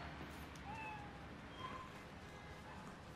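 A cat meows faintly a couple of times in Spider-Man: Miles Morales, short rising calls over a dense wash of game ambience and background noise, with no talking.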